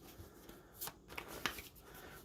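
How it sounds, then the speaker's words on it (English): A tarot card deck being shuffled by hand: soft riffling bursts and papery flicks in short irregular clusters, quiet and close, with no voices. "Shuffle your deck here in about 3 more times."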